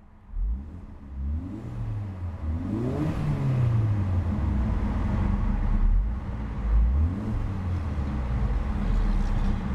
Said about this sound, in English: Absolutely beautiful sounding motor.